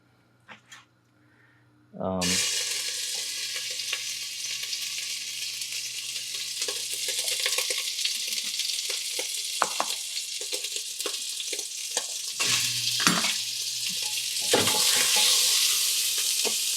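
Bacon sizzles in a pan for beef stewed in red wine, a loud, steady frying hiss that starts abruptly after a quiet moment, with occasional clatter and stirring over it.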